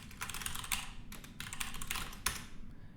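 Typing on a computer keyboard while coding in Go, rapid bursts of crisp key clicks in quick clusters with brief pauses between, close and moderately quiet, with no voice.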